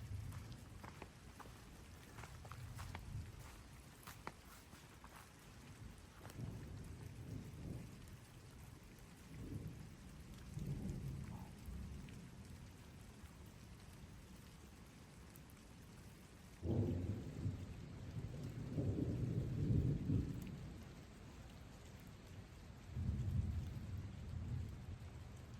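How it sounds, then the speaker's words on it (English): Low thunder rumbles roll in repeated waves over steady rain at a campsite, without lightning, the loudest burst coming near the end, with a quieter rumble trailing after. "No lightning, but just rumble after rumble."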